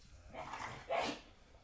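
A dog barks twice at moderate distance, a softer yelp followed by a louder, sharper bark, with no other sounds around it.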